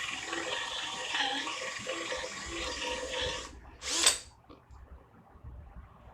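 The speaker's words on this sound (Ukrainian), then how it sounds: "на сверлі форснера 35 мм. Два отвори посверлимо, друга швидкість дерев'яний брус." A Milwaukee M18 cordless drill in second gear bores a wooden beam with a 35 mm Forstner bit, whirring and chewing steadily for several seconds. A sharp burst follows as the bit breaks through, then quiet.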